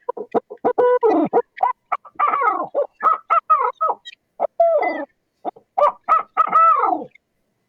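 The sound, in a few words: caterwauling call of a mating pair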